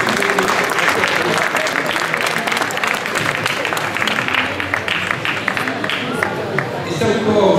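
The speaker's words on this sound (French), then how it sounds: "On peut l'applaudir." Audience at a comic book festival in Verneuil claps in a sustained, dense round of applause, loud and close, with some crowd chatter mixed in.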